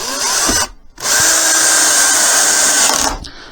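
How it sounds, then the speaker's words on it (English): Power drill boring holes through wooden dowels while building clamp storage, a loud steady whine in two long bursts separated by a brief pause, with no talking. "Drill holes through dowels"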